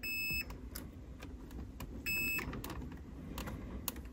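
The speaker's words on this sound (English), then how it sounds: "If we hear a beep, it's good." A continuity tester checking off-road light and fog light wiring on a vehicle gives two steady electronic beeps, each about half a second long, separated by a short pause, over a low background hum.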